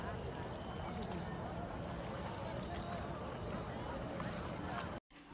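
Boat ride on the river toward Triveni Sangam at the Maha Kumbh Mela in Prayagraj: steady broadband engine and water rumble with wind noise throughout, close and continuous, with a brief dropout near the end.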